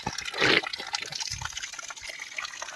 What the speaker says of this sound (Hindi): इसमें 12 महीने पानी आता है।